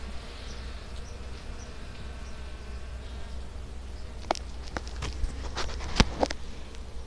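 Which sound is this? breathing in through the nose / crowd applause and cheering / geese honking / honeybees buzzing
honeybees buzzing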